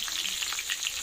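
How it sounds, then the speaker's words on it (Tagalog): Chicken fries in a pan with a steady close hiss and dense crackle that stays even for the whole brief moment, with no voices. "nag-prito tayo ng manok"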